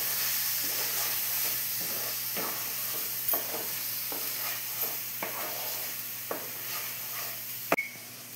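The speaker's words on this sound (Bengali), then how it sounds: "আবারও বেশ করে মিশ্রণটা মিলিয়ে নেব" Turmeric, cumin powder, coriander powder and Kashmiri chili powder stirred together in a hot pan for paneer curry: a soft background sizzle with repeated scraping strokes, close and fairly quiet, and no talking.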